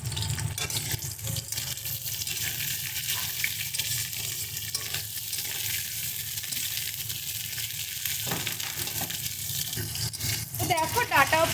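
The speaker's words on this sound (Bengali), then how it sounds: "তো সেই জন্যই আমরা ডাঁটাটাকে ভেজে নিচ্ছি।" Drumstick pieces (sajne data) fry in a pan, a steady close sizzle and crackle of hot oil with occasional stirring scrapes, someone speaking over it throughout.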